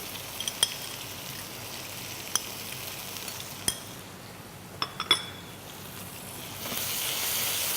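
Chili sauce poured into a hot frying pan gives a quiet, steady sizzle with a few sharp clinks of utensils against the pan, and the frying hiss swells louder near the end.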